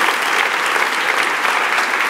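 A church congregation applauds God together, a dense, steady wash of clapping filling the room at full strength throughout.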